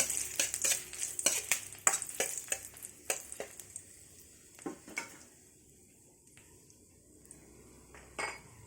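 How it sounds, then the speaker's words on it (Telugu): Dried red chillies fry in a little oil in a pan for brinjal fry, with faint sizzling under repeated clinks and scrapes of a spoon stirring against the pan. Bursts are loud at first, then quieter and sparser. "వంకాయ ఫ్రైకి ముందుగా కొద్దిగా ఆయిల్ వేసి ఎండుమిర్చి బాగా ఫ్రై చేసుకోండి, వేపుకోవాలి."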